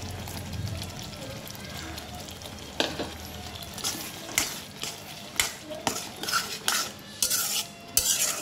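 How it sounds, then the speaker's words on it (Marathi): Green peas tossed in masala over a high flame, a steady sizzle in the pan with sharp clinks and scrapes of a spatula stirring, growing busier toward the end. "आता ही मटार जर आपण ह्याच्यावर मोठा गॅस करून थोडी मसाल्याने मटार परतून घेऊया"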